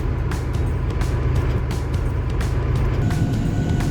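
A combine harvester runs through a soybean harvest in Quebec, a steady loud low machinery drone with a constant rumble and faint rattling, heard from inside the cab with no talking.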